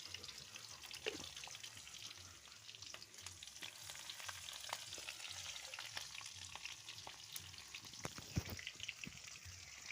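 A few grains of panch phoron spice mix crackle and sizzle in hot oil in a wok, a faint, continuous fry with scattered sharp pops and occasional stirring, heard alone.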